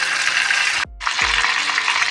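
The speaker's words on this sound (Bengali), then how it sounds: "এবার আমি চিকেনটা এর মধ্যে ছেড়ে দেবো। এটাকে ভালো করে আমি এবার ভেজে নেব।" A whole chicken fries in oil in a wok with a loud, steady close hiss, broken once by a brief silence and low thuds.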